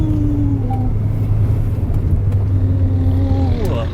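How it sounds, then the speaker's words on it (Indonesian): A Wuling Confero S engine-braking in second gear down a long steep mountain road, a steady low drone of the engine under faint cabin noise, with people talking now and then. "Engine brake nih."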